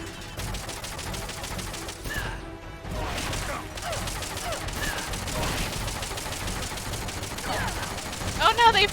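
Rapid video game gunfire from Metal Gear Solid: Peace Walker crackles in dense, continuous bursts, with heavier impacts near the end and a voice talking underneath.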